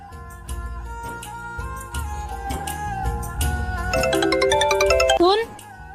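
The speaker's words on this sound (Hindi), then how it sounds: "सुन, ये तेरा फोन बज रहा है, किसका फोन है?" A phone ringtone plays a bright melodic tune, rising toward the end, with voices speaking over it.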